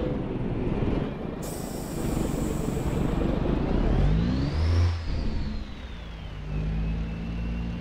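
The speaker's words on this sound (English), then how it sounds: "old cab over Kenworth K100E. That's a 6NZ Caterpillar." A Caterpillar 6NZ diesel in an old cab-over Kenworth K100E truck in American Truck Simulator drones steadily and loudly, its revs climbing and falling with a brief air-brake hiss near the start.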